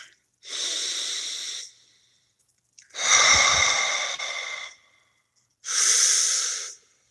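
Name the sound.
deep breathing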